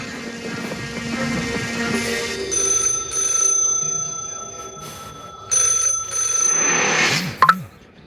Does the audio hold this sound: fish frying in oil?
no